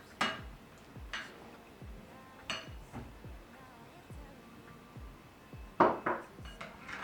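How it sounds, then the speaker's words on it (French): A spoon or whisk knocks and clinks against a bowl in an irregular rhythm while cheesecake batter with egg and sugar is mixed, close and fairly quiet, with soft voice in the background. "il faut bien mélanger entre chaque élément"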